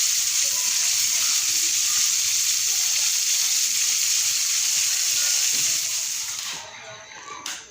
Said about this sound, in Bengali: হালকা একটু ভাজা দিয়ে নেব মাছটা।